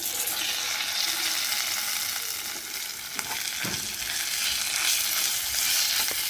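Cooked amaranth seeds stirred into a tempering of salt and asafoetida in a hot pan for uppittu, a loud steady frying sizzle with occasional scrapes of the spoon.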